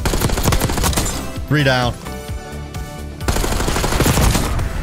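Loud, continuous rapid-fire bursts from an assault rifle in Black Ops 6 multiplayer, close and dense with only a brief dip, while a voice talks over the shooting.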